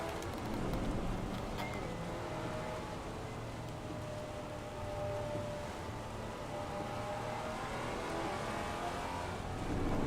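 Heavy rain in the Assetto Corsa Competizione racing game, a Maserati GT4 at Spa, forms a dense, steady wash of noise blended with a constant engine drone, loud and continuous throughout without talk.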